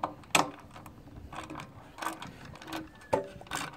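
Metallic clicks and ratcheting turns come close and uneven as bolts are pre-loosened on a GY6 scooter's body panels, with several sharper snaps among softer mechanical rattles.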